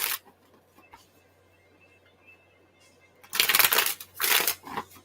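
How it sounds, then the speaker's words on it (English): Tarot cards being shuffled by hand, a few soft riffles early on, then two loud, close bursts of papery rustling and snapping near the end, with no talking. "Two more shuffles."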